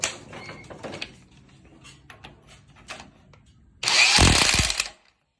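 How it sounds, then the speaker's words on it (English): An impact wrench gives a short, loud burst of rattling hammering, about a second long, snugging a bolt while a clutch tamer is installed on a vehicle, after quieter shop clanks and handling noises. "So we'll snug it down with the impact."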